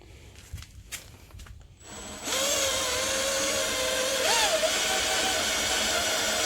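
A drill bit bores slowly through metal under steady pressure while installing a Warn bull bar on a Jeep JK, with a steady grinding whine that starts after a couple of seconds of scattered knocks and rises in pitch briefly near the end.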